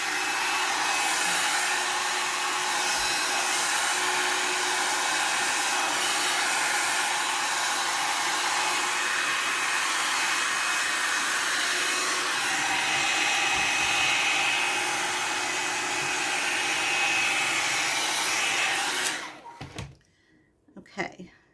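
A L'ange LeVolume 2-in-1 brush dryer blows steadily and loudly as it dries hair, a constant broadband whoosh held for about nineteen seconds before cutting off abruptly into near silence.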